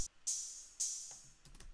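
Two bright, sizzling open hi-hat sample hits from the Cody kit, each ringing out for about half a second, played alone and fairly quiet.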